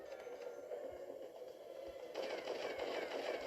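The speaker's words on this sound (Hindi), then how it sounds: "मेरी गन, जब मेरी गन हीट अप होती है ना, वो चलना बंद नहीं करती है" Rapid automatic gunfire from the zombie shooter game Dead Trigger 2, a steady stream of shots that grows louder and denser about two-thirds of the way through, with no talking.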